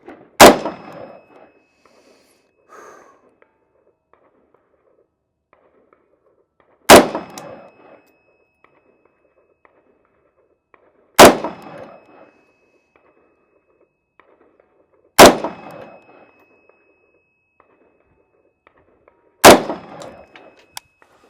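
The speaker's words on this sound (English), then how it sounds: "I'm going to just fire 5 rounds at the target here at 50 yards, running some 62 grain, just target ammo" An AP53 rifle, a Turkish clone of the HK53, fires five single shots of 62 grain target ammunition at an outdoor range, each a sharp, loud crack spaced about four seconds apart with a faint ringing tail and quiet in between.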